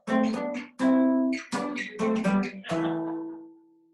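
Guitar notes are picked in a short melodic phrase, ending on two notes sounded together that sustain and fade.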